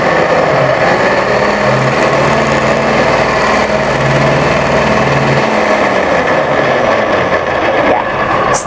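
A Vienta food processor chops carrots, its motor whirring loudly and steadily with a constant high-pitched drone for the whole stretch, no voices over it.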